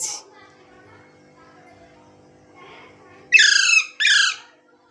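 Birds give two loud, harsh squawking calls near the end, each a short burst following a long quiet stretch that carries faint background sound.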